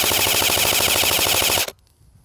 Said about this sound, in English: Put the gun on full auto,